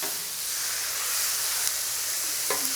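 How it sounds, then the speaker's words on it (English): Ribeye and flank steak sizzle on a griddle as they are mixed and chopped, a steady close hiss of frying with a few brief scraping clicks near the end. "I'm going to mix it up here with that flank steak. And give it some chopping at the same time."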